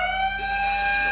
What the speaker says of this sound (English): That's a alarm.